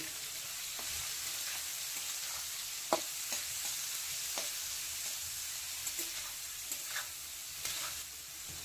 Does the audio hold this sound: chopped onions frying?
yes